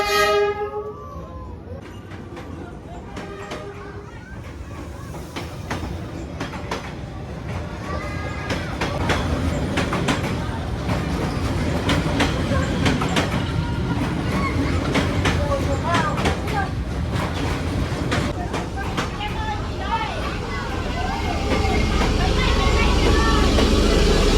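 A train arriving in Hanoi, Vietnam rumbles in with rising, steady mechanical roar and clatter, sounding a horn amid a busy street-side setting with traffic, while a person talks over it near the start.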